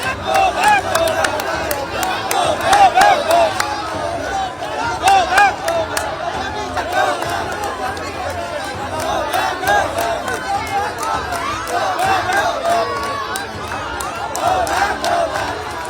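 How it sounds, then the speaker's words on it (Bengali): Crowd shouting and chanting go-back slogans at a Trinamool MP outside a hospital in Joynagar, a continuous loud babble of many voices with rising surges of shouting throughout. "শনিবার ঘটনাস্থলে গিয়ে গো ব্যাক স্লোগান শুনতে হলো সেই তাঁকেই"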